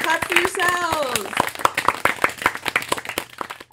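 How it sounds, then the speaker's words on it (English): Members of a live storytelling audience on a Zoom event clap in scattered, uneven bursts, sharp hand claps sounding alongside a voice speaking at the start. "Clap for yourselves."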